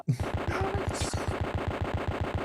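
Rapid machine-gun fire in the retro first-person game Pathways Into Darkness: a steady, evenly spaced burst of shots running the whole time, loud and close, with an echoing tail.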